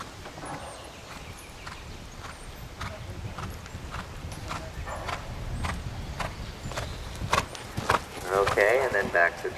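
Horse hooves clip-clop in a steady two-beat dressage trot on firm ground, moderately close, while a person talks intermittently over the rhythm.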